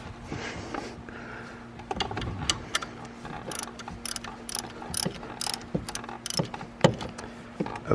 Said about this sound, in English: continue to loosen this bolt here